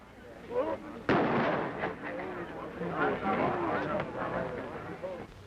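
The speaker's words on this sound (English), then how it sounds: "Shortly afterwards, there was an explosion." A factory explosion rendered as a 1930s film sound effect: one sharp, loud blast followed by a rumbling, crackling tail with scattered smaller bursts.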